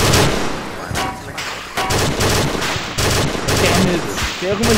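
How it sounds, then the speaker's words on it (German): Gunfire in the military video game ArmA 2: dense, loud automatic fire and single shots in rapid bursts with heavy booms, continuous throughout, with voices mixed in. "Hat hier mal jemand eine Ahnung, wo die Schüsse herkommen?"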